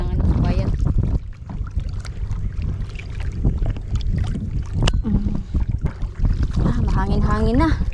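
Paddles splash and dip into water in irregular strokes from a small boat returning from fishing, while voices talk and wind rushes across the microphone.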